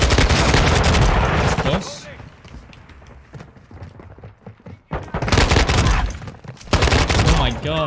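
Heavy gunfire in Call of Duty Modern Warfare 2 multiplayer: loud bursts of automatic fire at the start and again near the end, a quieter stretch between, with someone talking over it.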